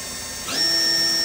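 A Mori Seiki Milltap 700 machining center spindle spinning up to 5,000 RPM, a rising mechanical whine that sweeps upward and settles into a steady high-pitched tone, close and alone.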